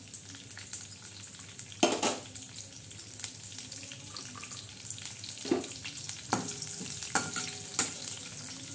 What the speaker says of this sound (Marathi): कढीपत्ता चांगला असा मस्त तडका देऊन घ्यायचा